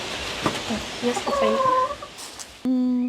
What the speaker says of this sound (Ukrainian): одне яєчко лежить, а курочка вже сидить, несеться